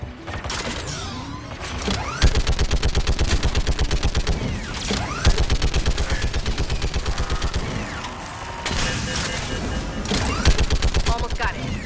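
An enemy gun in Mass Effect 3 fires long, loud bursts of rapid automatic gunfire, repeated several times with brief pauses, with mechanical whirring and explosive thumps mixed in.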